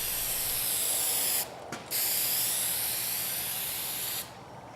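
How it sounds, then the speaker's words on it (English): Aerosol can spraying John Deere green paint onto cast-iron Grizzly 1022 table saw parts, a steady close hiss in two bursts broken by a short pause, then falling silent near the end. "my goal here is just to paint everything uniform and have surfaces that don't rust"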